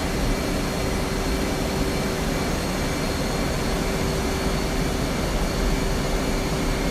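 A steady jet aircraft engine drones on final approach in the DCS flight simulator, a constant broadband roar with a thin whining tone, unchanging and loud, with no voices over it.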